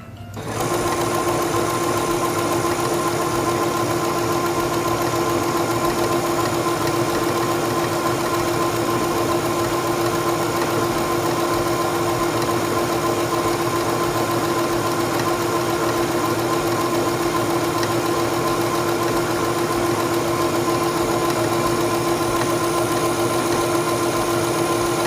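A Singer 7258 computerized sewing machine sews a decorative stitch with a steady, continuous motor whir and fast needle rhythm, close and loud, running unbroken for about twenty-five seconds.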